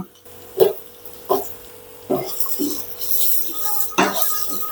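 Potato pieces are tipped into hot spiced oil in a cooking pan with a series of clattering knocks and a rising sizzle, a spoon clinking against the metal between drops.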